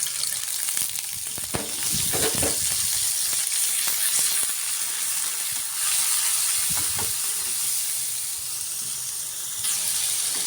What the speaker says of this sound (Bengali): লবণ একটু জল দিয়ে কষিয়ে নেব